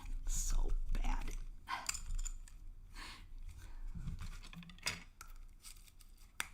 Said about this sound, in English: Get it with the scissors.